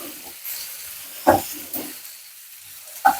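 Shallots sautéing in a pan for a Kerala-style onion thoran, a soft steady sizzle with a few louder stirring clatters, close and alone without talk.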